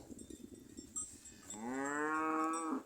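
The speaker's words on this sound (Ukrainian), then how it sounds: "Тут корови, пасуться." A grazing cow lets out a long, loud moo with a strong harmonic drone, preceded by soft outdoor rustling and faint background noise.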